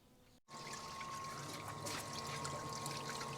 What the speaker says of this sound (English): And kind of rinse out all that filings that we just put in by chamfering.